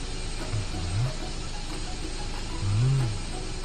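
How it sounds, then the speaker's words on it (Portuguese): Cartoon car wash dryers switching on, a low mechanical whir rising in two swells over a steady hiss, with ratcheting gear-like clicks throughout. "Vamos ligar os secadores."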